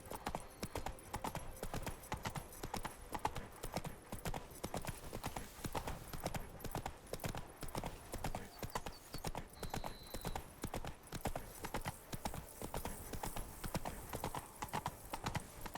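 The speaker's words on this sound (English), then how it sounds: "Whoa there, Roach." In the Witcher 3 video game, the horse Roach's hooves clip-clop in a fast, steady galloping rhythm, fairly faint and continuous for the whole stretch.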